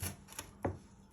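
Knife chopping food on a cutting board while preparing Thai-style chicken and ribs, with a few quiet, close taps spaced irregularly.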